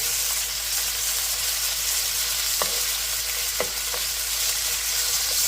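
Cold beef sears in a hot pan for beef chow fun, producing a dense, even sizzle with a couple of brief scrape accents, loud and close.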